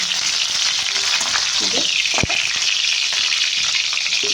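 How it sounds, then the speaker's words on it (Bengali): Cashews fry in a little white oil, producing a loud, continuous sizzle and crackle up close, with a single sharp knock partway through and faint stirring scrapes underneath. "কাজু শুকনোটা অল্প করে ভেজে নেব প্রথমে একটু সাদা তেলে দিলাম"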